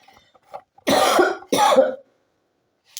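Two loud, close coughs in quick succession from a woman with a cold, preceded by faint small noises and followed by near silence.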